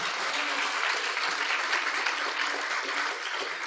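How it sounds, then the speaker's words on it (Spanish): Church congregation applauding God during a Sunday sermon, a full, even roar of clapping hands that stays loud and constant across the moment. "¿Cuánto le pido un aplauso a nuestro Dios?"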